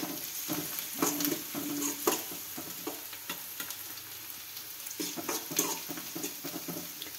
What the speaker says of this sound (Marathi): कांदा सोनेरी कलर येईपर्यंत भाजून घ्यायचा.